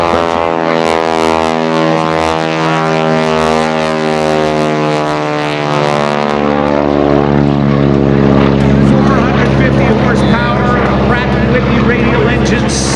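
A Stearman biplane's radial engine drones loudly at an airshow, a strong steady propeller hum that rises and shifts in pitch as it passes, with a voice talking over it.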